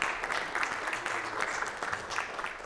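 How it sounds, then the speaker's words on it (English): Audience clapping to welcome a volunteer on stage, a brief burst of steady applause from a crowd. "Give him a big round of applause."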